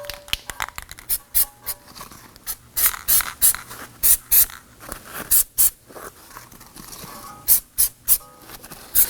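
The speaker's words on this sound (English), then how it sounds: "prep the surface of the wheel hub with some anti-seize compound. We have the spray style." Anti-seize compound sprayed from an aerosol can onto the wheel hub of a 2018-2024 Toyota Camry during a rear brake job, a series of short, sharp hissing bursts at irregular intervals, close and loud, with quieter handling noises between.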